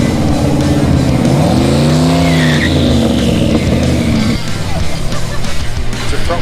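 A front-wheel-drive car with race fuel does a smoke burnout. The engine roars loud and close with tires squealing hard, the pitch sweeping up and down before it settles into a sustained screech.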